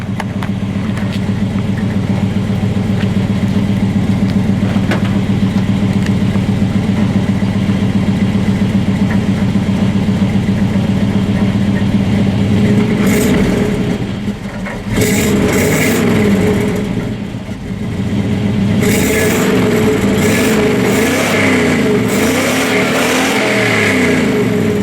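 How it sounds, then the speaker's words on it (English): Pickup truck engine rumbling at a steady idle through the exhaust, then revved sharply a few times in quick bursts before settling back, loud and close with no speech. "A little bit of revving."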